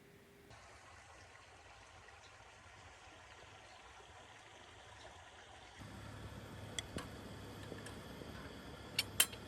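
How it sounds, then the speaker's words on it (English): A creek flowing at night beside a campsite in the Tahoe and Plumas National Forests, a soft continuous rushing murmur that grows a little louder midway, with a few faint sharp ticks near the end. "it's just amazing to listen to the creek at night"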